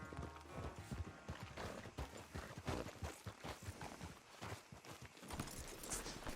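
Horse hooves clip-clop steadily in Red Dead Redemption 2, a dense, continuous patter of close hoofbeats running through the whole stretch with no talking over it.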